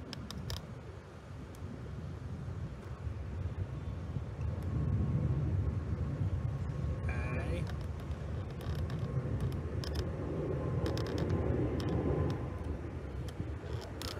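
An airplane rumbles low and steady on an airport runway at a distance, a broad engine roar that swells gently in the middle and then eases off, with faint clicks over it and no talk.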